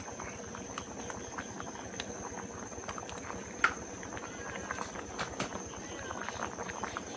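A Thai curry of young palmyra fruit with yanang leaf juice and grilled fish boils in a pot, a quiet, steady bubbling and popping with soft patter throughout.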